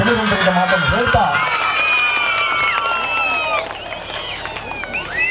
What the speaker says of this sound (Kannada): ಅಂತಹ ಯೋಧರಿಗೆ ಜೋರಾದ ಚಪ್ಪಾಳೆ ಮೂಲಕ ಅದನ್ನು ಸಲ್ಲಿಸುವಂತ ಮಾತನ್ನು ಹೇಳ್ತಾ